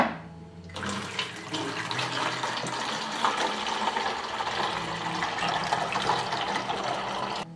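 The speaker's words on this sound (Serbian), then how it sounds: "Rupu na boci zatvorite sa prstom i sipajte vodu u flašu." Water is poured through a funnel into a plastic bottle, making a continuous close rushing, gurgling flow for several seconds after a brief quiet start.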